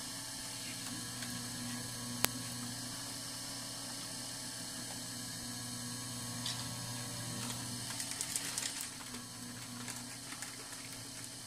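Potter's wheel turning steadily while clay is centered by hand at a traditional pottery in Sagada, a continuous mechanical whir with a faint ratcheting hum throughout, with a brief sharp click near the start.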